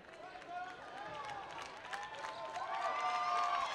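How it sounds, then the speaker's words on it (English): Crowd at a high school boys basketball game rising to applaud as the final seconds expire, a broad steady wash of clapping and cheering that swells toward the end, with bright squeaks of sneakers on the hardwood cutting through. "Crowd from Judge stands up, gives him a hand."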